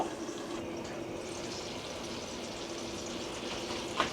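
Spinach and brinjal with spice and salt simmer in a pot, a soft, continuous bubbling and sizzling hiss that stays faint and even, with no talking.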